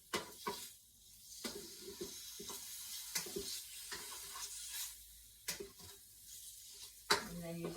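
Ground turkey and garlic stir-fry sizzling in a pan, with a soft continuous hiss broken by sharp scraping clicks of a utensil against the pan at irregular intervals.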